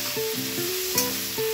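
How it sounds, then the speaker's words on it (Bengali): Softened onions frying in an uncovered pan on a raised flame, a steady close sizzle with a spatula scraping and stirring through it, alone without speech. "কিচেনে এসে দেখি পেঁয়াজগুলো প্রায় হয়েই গেছে হয়তো। ঢাকনাটা উঠিয়ে দিই। হ্যাঁ, নরম হয়ে গেছে। ফ্লেমটা বাড়িয়ে আবার একটু নাড়াচাড়া করি"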